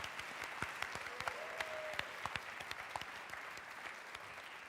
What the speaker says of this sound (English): Let's have one more round of applause for all our performers, presenters, and the 4 alumni we honored tonight.